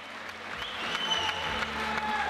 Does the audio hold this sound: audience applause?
yes